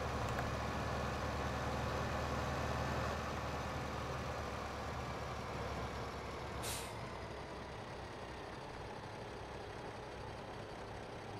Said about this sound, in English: this tractor is able to pull it, but it does struggle somewhat.